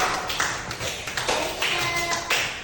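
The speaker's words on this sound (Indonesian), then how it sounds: "Oke, tepuk tangan." A classroom of students claps in a brief, uneven patter of hand claps that swells in bursts and fades, fairly close.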